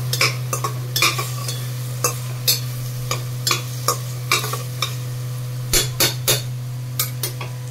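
Ginger and garlic paste frying with tomato and onion: a faint sizzle sits under a low hum, broken by repeated sharp clinks and scrapes of a utensil stirring in the pan at an uneven rhythm.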